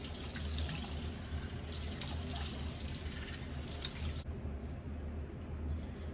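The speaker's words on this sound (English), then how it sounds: "I'm gonna wash my face, put some water on my face." Steady rush of tap water running into a sink during face washing at home, continuous and close, cutting off abruptly near the end with faint drips after.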